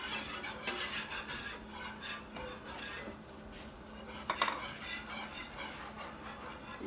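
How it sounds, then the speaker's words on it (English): A utensil stirs and scrapes steadily through a thick milk and roux mixture in a pan, with a soft sizzle underneath and a couple of louder clinks. "I'm going to be doing the double stir."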